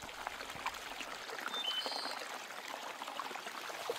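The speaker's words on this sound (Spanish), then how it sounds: "Eso parece ser el sonido de una caída de agua" Falling water from a stream splashes in a continuous faint hiss and trickle, distant and steady with no voices.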